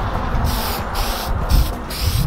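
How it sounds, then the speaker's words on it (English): Repeated short hissing bursts from a spray paint can, close by, starting and stopping several times in an uneven rhythm against a low background rumble, painting a 1/10 scale RC car body from about 12 inches away. "I'm gonna spray about 12 inches away"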